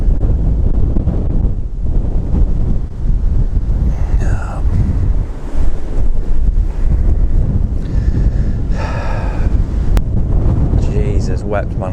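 Strong wind buffets the microphone beside a canal, making a loud, continuous roaring rumble with brief faint tonal sounds over it.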